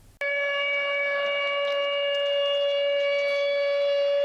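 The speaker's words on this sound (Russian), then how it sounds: "Под звук сирены дети покидают лагерь «Лесная сказка»." A civil defense siren at a children's summer camp in Russia starts abruptly and holds a steady, loud, sustained wail with layered tones, continuing unbroken.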